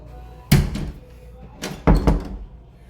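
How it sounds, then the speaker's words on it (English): An interior door in a Baltimore house swings and shuts with a solid thunk, then a second pair of close, heavy knocks and bumps follows a second later, with no talking. "But we'll go ahead and shut this door."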